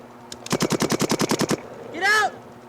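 Rapid burst of about a dozen paintball gun shots aimed at a bunker during a paintball game, loud and evenly spaced, followed by a short shouted voice.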